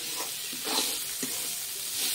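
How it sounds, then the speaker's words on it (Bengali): Mung dal dry-frying in a pan gives a faint, steady sizzle with a few soft stirring scrapes, close by and alone. "মুগ ডালটা আমার হয়ে গেছে ভাজা।"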